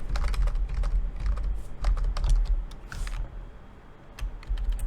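Rapid, irregular clacking of a computer keyboard being typed on up close, with bursts of keystrokes and a brief pause near the end.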